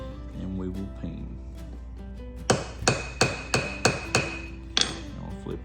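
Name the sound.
hammer peening brass pins on a slip joint pocket knife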